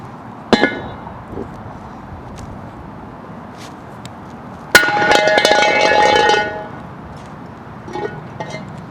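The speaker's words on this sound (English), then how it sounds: "You want to hit it both one more time? With the big one? Yeah. All right. 8-pound sledge." An 8-pound sledgehammer clangs against a Poison Spyder Bombshell metal diff cover, one sharp hit early and another loud ringing strike midway that resonates for about a second, then fades.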